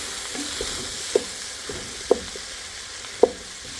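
Spoon stirring flour into melted butter and vegetables in a pan, a soft, steady sizzle broken by three light taps against the pan.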